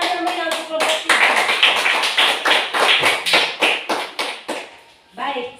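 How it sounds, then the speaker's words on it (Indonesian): Classroom students applauding group 3 after their presentation, a burst of rhythmic, fairly loud clapping with some voices mixed in, fading near the end. "Tepuk tangan yang meriah untuk kelompok"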